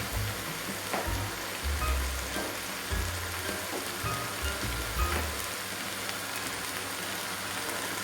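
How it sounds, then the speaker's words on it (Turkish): Ingredients sauté in a pot for a potato and carrot winter soup, making a soft, steady sizzle with light crackling and a few low clunks, fairly quiet and close. "Biraz kavurayım."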